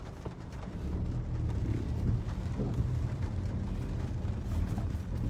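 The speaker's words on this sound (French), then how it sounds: "Partout c'est la grosse pluie." Heavy rain falls steadily in a broad, even hiss, with deep low rumbles of thunder rolling underneath, constant and moderately loud across the whole stretch.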